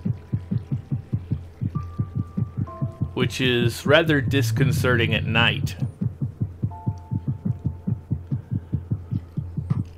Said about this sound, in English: does the camel, does its footstep sound like a heartbeat?